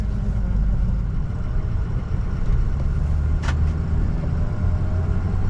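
A 2004 Ford Excursion with a 6.0L Powerstroke diesel drives along at a steady, loud rumble, with continuous engine and road drone throughout and one brief higher-pitched click partway through.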